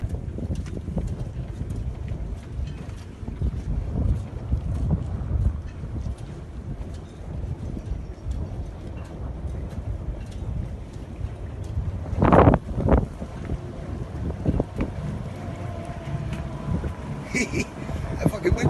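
Wind buffeting the microphone while an old gaff cutter boat is hauled out of the water, a steady rumbling gust under intermittent talk, with brief knocks and clatter midway.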